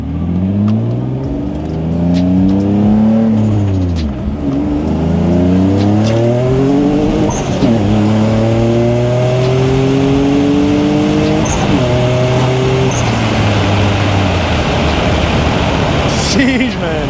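A boosted Nissan Z accelerates hard, its loud engine note climbing steeply through several gears with brief dips at each shift, heard up close from inside the car.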